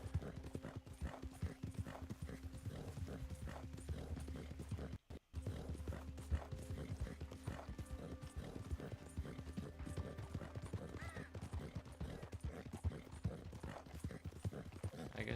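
Horse hooves in a video game clip-clop in a fast, steady rhythm for the whole stretch, loud and close, with a brief whinny and soft game ambience, pausing for a split second near the middle.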